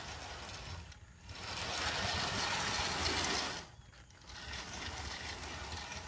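A rebuilt Bachmann Annie 4-6-0 model steam locomotive runs on track, giving a steady close mechanical whir of gears that swells for a few seconds, then drops back, with no talking.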